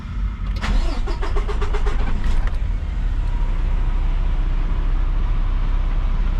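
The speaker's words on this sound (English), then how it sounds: "Let me turn on the truck." A truck engine cranks with rapid rhythmic churning for about two seconds, catches, and settles into a steady, close, low rumbling idle with no talk.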